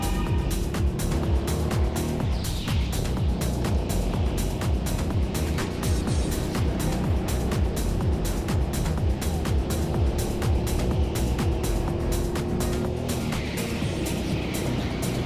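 Go-kart engines run through a race, a loud steady motor drone with rapid rhythmic pulsing that holds all the way through, close and continuous.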